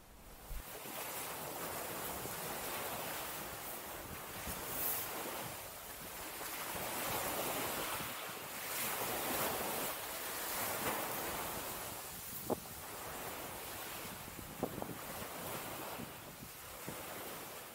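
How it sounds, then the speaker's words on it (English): Wind and waves at Shoebury Common beach in Southend on the estuary, a continuous roar of surf with gusting wind buffeting the microphone, fairly loud and steady with no voices. "The wind has picked up"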